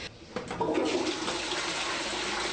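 A hotel bathroom toilet flushes close by. A sudden rush of water swells into a steady roar and keeps running to the end with no talking.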